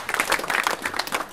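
Audience at a rap battle clapping in a steady burst of applause, fairly loud and continuous throughout the short moment, with no talk over it.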